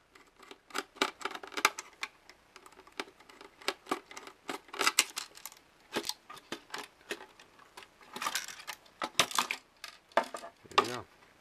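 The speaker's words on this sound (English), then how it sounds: "I'll need to use my red handled screwdriver" A small screw is worked free from a UPS backup unit's plastic casing with a red-handled screwdriver, giving close, irregular clicks, taps and scrapes of metal and plastic with brief pauses between them.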